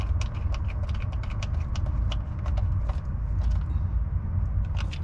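A small screwdriver tightens the negative terminal of a solar panel on a Jeanneau 795 boat, a rapid series of small clicks and ticks repeating over a low steady hum, close and fairly quiet.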